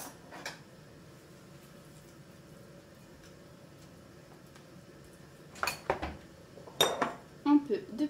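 A bowl and utensils clink as cheese is added while preparing canapés, with quiet background for several seconds, then a cluster of close, bright knocks and scraping clinks toward the end.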